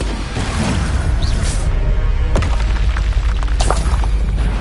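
An Expulso blasting spell detonating in the Hogwarts Legacy video game, a loud heavy boom with a rumbling tail and scattered debris crackle, alone without talk.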